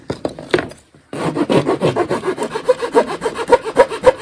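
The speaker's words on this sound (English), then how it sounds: "So now I'm gonna take my rasp, which is a really coarse file" A coarse rasp files wood for a van cabinet in a steady run of rough, rhythmic scraping strokes, close and fairly loud, after a brief pause near the start.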